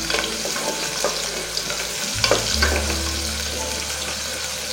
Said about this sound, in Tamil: வெங்காயம் பார்த்தீங்கன்னா நல்லா வதக்கி எடுத்துக்கணும்.